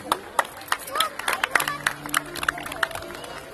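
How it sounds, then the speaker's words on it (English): A school audience gives scattered, uneven claps of moderate loudness, with talk and crowd murmur mixed in underneath. "give a huge round of applause for our teachers,"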